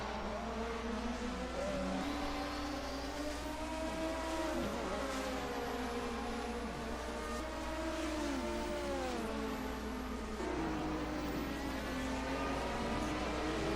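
A Porsche race car engine roars loudly with rising and falling revs as other cars pass during a 1980 DRM Division 2 race, a sustained mechanical whine with gear changes.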